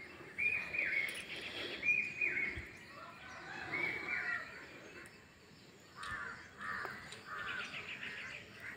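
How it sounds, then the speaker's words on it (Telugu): An Asian koel calls repeatedly on an early village morning among trees and open gardens, giving bright, rising phrases at moderate distance over a soft outdoor background. "అది కోయిల వాయిస్ వినిపిస్తుందా?"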